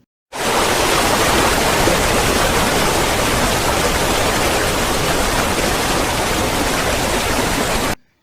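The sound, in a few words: waterfall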